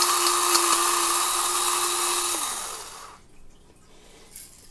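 An Ozeri electric pepper grinder on its medium setting whirs with a steady motor hum and grinding rasp for about two and a half seconds, then winds down and falls quiet, heard close up.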